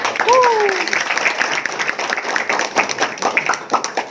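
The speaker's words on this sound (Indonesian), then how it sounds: "Wahyu, tepuk tangan untuk Wahyu" Applause from a community meetup audience in Indonesia: a dense burst of clapping under a short gliding tone at the start, then settling into thinner, more scattered claps with voices mixed in.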